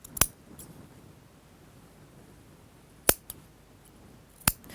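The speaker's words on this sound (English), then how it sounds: "take little snips of triangles out wherever your garment has curves on the seam" Sharp scissors snip small triangles from the curved seam allowance of a dress facing, three crisp isolated cuts spaced apart against a quiet room.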